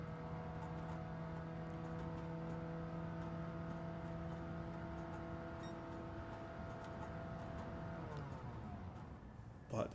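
A modded Toyota Prius with a variable transmission in Grand Theft Auto drones at constant high revs, a steady buzzing engine tone held without change before dropping off near the end.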